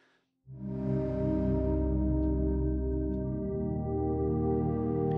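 A warm, sustained ambient synth pad from Sonuscore's Elysion cinematic hybrid synth swells in after a brief silence and holds steady, rich low harmonics droning softly with no beat.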